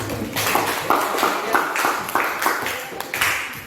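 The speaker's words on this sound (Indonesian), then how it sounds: "tepuk tangan untuk kelompok 1" A classroom group claps in rapid, steady applause lasting a few seconds, close and fairly loud.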